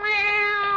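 A cat inside a bank gives a single clear, drawn-out meow, close and alone, holding a steady harmonic tone before ending abruptly.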